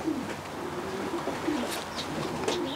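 A racing pigeon coos close by, several soft, low, throaty calls repeating over a steady background hiss, with no talking.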